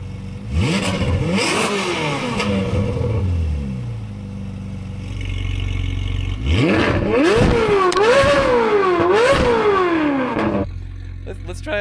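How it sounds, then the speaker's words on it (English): A Ferrari 458 engine cold starts and idles with a rough rumble, then gets blipped through a series of loud, rising and falling revs close by. "we're gonna do a cold start, let it warm up, we'll do some revs"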